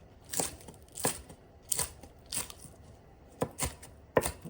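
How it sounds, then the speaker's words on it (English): Fresh scallions given a rough chop with a knife on a cutting board, about eight sharp, close chops in an uneven rhythm with quiet pauses between, no talking. "There's the fresh scallions I just got. And I'm going to do a rough chop."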